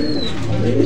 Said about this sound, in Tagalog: So napakaraming ibon guys.